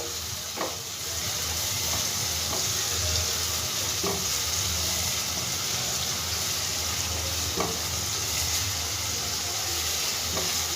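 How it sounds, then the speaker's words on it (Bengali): Chopped capsicum and onion fry in a pan with a loud, continuous sizzle, broken now and then by faint taps of a stirring utensil, close up and with no voices. "এইটা আমি পেঁয়াজের সাথেই দিয়ে দেবো। ভালো করে একটু ভেজে নেবো আগে।"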